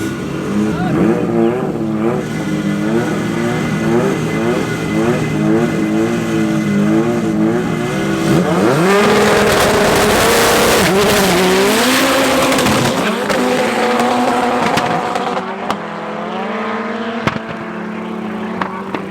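Race cars, including a Honda CRX, at Midvaal Raceway: loud engines revving and accelerating through shifting gears, with a surge of roaring and tire noise midway, close and continuous, a commentator's voice audible over it.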